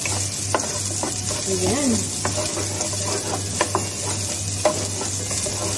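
Onions drop into a little hot oil in a pan and sizzle steadily, with occasional spatula clicks, a low steady hum beneath and a brief spoken word.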